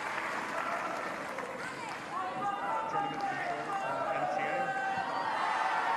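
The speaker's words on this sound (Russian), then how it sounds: "Вот она, французская кричалка." French fans in a crowd at an Australian Open tennis match in Melbourne chant and cheer together, a dense, sustained roar of voices with rising shouts and some clapping, heard under a commentator talking.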